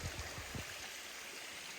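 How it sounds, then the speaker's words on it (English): A waterfall beside a hiking trail in the Adirondack High Peaks rushes in a steady, soft broadband wash, with a few low thumps near the start. "waterfall"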